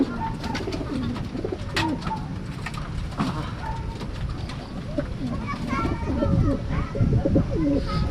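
Racing pigeons coo repeatedly in a loft, soft throaty calls layered over a busy background, with a person talking nearby and faint sounds of children.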